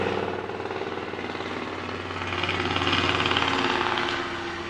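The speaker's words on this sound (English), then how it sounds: "life as it is presents us with interruptions such as overhead helicopters" The steady rhythmic thudding of a helicopter overhead, a continuous low chopping drone that swells slightly louder midway.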